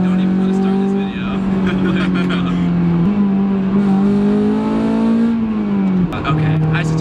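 A 2006 Honda S2000 AP2 sports car engine runs close by with a steady, buzzy drone whose pitch rises and dips as it is revved, with voices talking over it.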